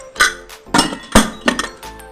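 A metal lid is set onto a cooking pot of chicken bone curry with a few sharp clinks and clanks, four or five close, distinct knocks as it is shifted into place.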